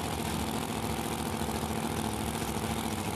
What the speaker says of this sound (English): Blown engine in the far lane, carbureted engine in the near lane.